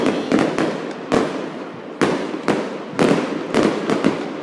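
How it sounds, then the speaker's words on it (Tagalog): Fireworks burst over a lake in Geneva on Swiss National Day, a series of loud, booming cracks at irregular half-second to one-second intervals with crackling tails, each echoing across the open water. "Kita rin ang fireworks."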